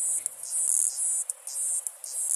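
Australian cicada song, a shrill, steady high buzz broken every fraction of a second by brief twanging pulses and raspy bursts, heard alone and fairly close.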